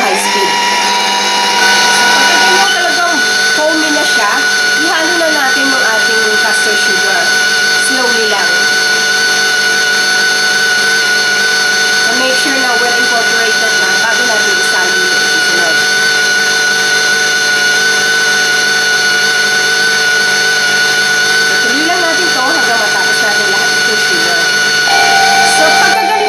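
An electric hand mixer whips egg whites with cream of tartar on high speed toward stiff peaks for a yema cake, a steady loud motor whine running the whole time with faint voices underneath.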